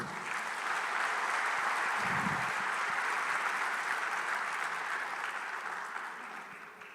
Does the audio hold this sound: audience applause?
yes